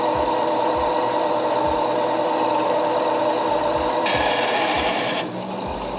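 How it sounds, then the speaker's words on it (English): Struggling power sander grinding against a piece of wood during a slow electrical phase changeover, a steady strained rasping drone with periodic low thumps, loud and close throughout before easing slightly near the end. "I just stopped the sander with this piece of wood."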